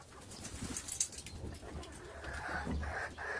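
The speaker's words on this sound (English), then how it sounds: "It's the king chicken." A chicken on top of its coop near a smaller chicken gives low cooing, clucking calls over steady farmyard ambience, with a faint voice in the background.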